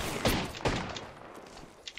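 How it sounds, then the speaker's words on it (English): Gunfire in the video game Apex Legends, two sharp bursts of shots close together near the start, then fading to quieter scattered reports and low background ambience. "Opening fire on the enemy."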